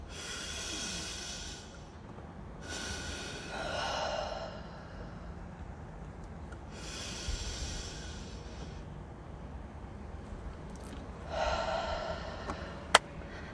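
Slow, deep breaths drawn in during a calm breathing exercise, several long airy inhales with pauses between, close and soft over a steady background hiss.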